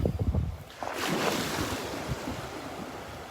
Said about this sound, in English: Some little waves coming in now.